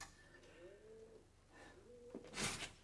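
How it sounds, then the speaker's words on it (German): Pigeons coo softly in a London garden while other garden birds call now and then, a quiet, fairly distant outdoor scene ending in a brief burst of brighter noise. "Im Garten gibt es Tauben, Amseln, Finken, Mauersegler."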